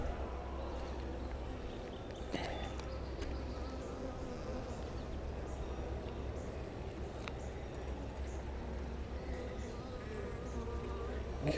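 Honey bees buzz steadily around an opened hive during an inspection, a dense, faint, continuous drone with a few light knocks and clicks.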